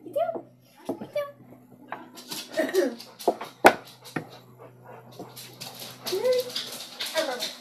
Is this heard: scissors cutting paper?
no